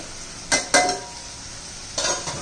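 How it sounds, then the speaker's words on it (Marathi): A spoon scrapes and stirs spices into Pavta rice frying in oil in a pan, with a few sharp utensil scrapes against the metal over a quiet background. "आता हे सर्व आपण व्यवस्थित मिक्स करून घेऊया।"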